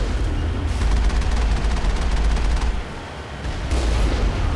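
Rapid bursts of weapon fire crackle and boom in a Mass Effect 1 firefight with snipers, dense repeated shots rolling on, briefly pausing, then resuming loudly without any talk.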